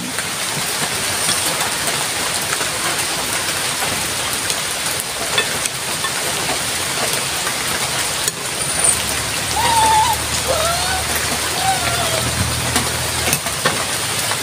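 Steady rain falls in a continuous dense patter, moderately loud and unbroken throughout, with faint background sounds underneath and no clear talk.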